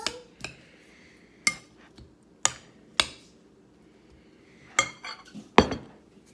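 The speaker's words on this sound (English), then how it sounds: "we're just gonna take a little spoon and just kind of toss that around" A spoon clinks against a bowl as marinated beef and onions are tossed around, giving about eight sharp clinks and taps spread irregularly across the clip, close and clear against a quiet background.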